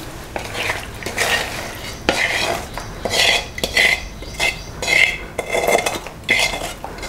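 A spoon scrapes and clinks against a vessel while tamarind seasoning is mixed into cooked rice for pulihora, making rhythmic bursts of metallic scraping repeated about every second, close and fairly loud with no talking.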